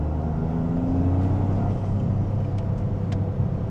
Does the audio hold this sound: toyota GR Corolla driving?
yes